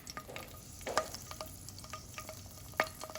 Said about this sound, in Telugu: ఈ ఆయిల్ వేడైన తర్వాత దీనిలో కొన్ని పచ్చిమిరపకాయలు వేసుకుందాం